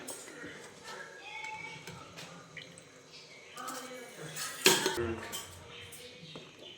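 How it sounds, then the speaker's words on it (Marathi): A metal spoon stirs soaked rice in a cooking pot, with scattered scrapes and clinks against the sides and one sharper knock near the end. A voice speaks softly underneath. "आता मस्तपैकी असं आहे ना चम्मचने असं हलवून घ्यायचं"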